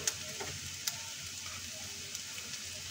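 Garlic and ginger fry in a pan for a mushroom masala, producing a quiet, even sizzle with a few faint clicks of a spoon against the pan.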